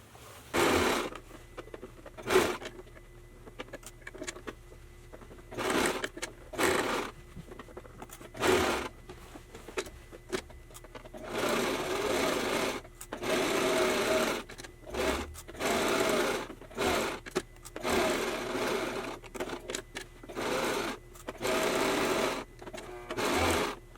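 A sewing machine stitching the side seam of a prom gown runs in repeated short bursts separated by brief pauses, its rapid mechanical whir close and clear, with no talking.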